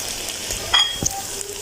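Potatoes frying in a pan for aloo anda, their water cooked off but still not soft, give a steady close sizzle with a few soft stirring scrapes and clinks.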